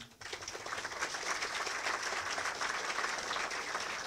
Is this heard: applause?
yes